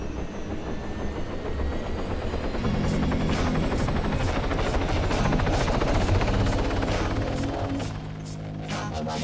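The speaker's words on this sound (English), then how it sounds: "I'm gonna go grab the chopper and bring it over here." A helicopter in Arma 3 drones steadily and loudly up close, its rotor chop and turbine whine continuous for several seconds before easing slightly near the end, with no voices.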